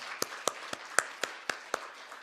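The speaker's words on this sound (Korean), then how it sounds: "다시 한 번 더 박수로 축복해 주시면 감사하겠습니다." Eight soft, evenly spaced claps from a church congregation during a worship service sound faintly in a roomy space, a slow, light rhythm rather than full applause.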